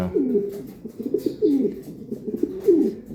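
A racing pigeon hen coos in three repeated rolling phrases, close and clear, with soft softer murmurs between each call and no voices.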